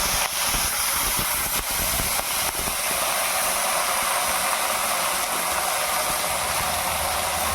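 Green chilies and gongura leaves frying in hot oil for a prawn dish, a loud, dense, steady hiss and crackle with a few sharp pops near the start, close up and without speech.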